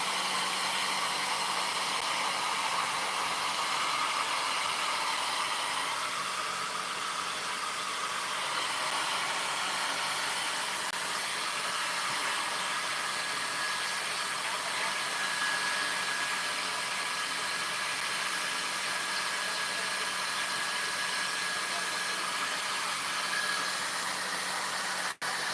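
A hair dryer fitted with a diffuser blows steadily while drying natural hair, a constant loud airy whoosh with a faint tonal whine that runs unbroken for the whole stretch, with no speech.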